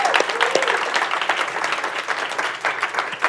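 An audience at a Control the Room 2020 leadership event cheers and claps steadily for event staff, a dense, continuous wash of applause with scattered whoops throughout, and no speech.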